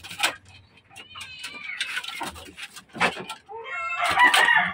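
Chickens on a rooftop farm cluck and call in a busy, close jumble, with a louder, crow-like burst of squawking near the end and no speech.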